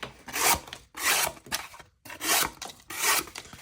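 A knife with a flat-ground, satin-finished blade slicing through single-wall cardboard, five rasping strokes with short pauses between them, close and fairly loud.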